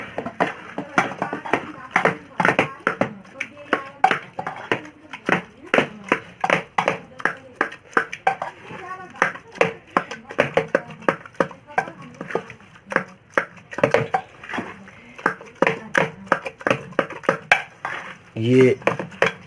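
Kandali (stinging nettle) greens being mashed and stirred in a cooking pot for a Pahadi Uttarakhand dish, giving steady rhythmic knocks and scrapes that repeat densely throughout, close and fairly loud.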